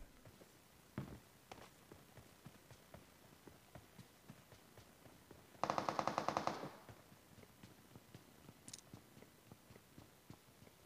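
In the PUBG Mobile video game, an enemy fires a short, rapid automatic burst of about a second, well above a quiet background of faint footsteps and scattered clicks.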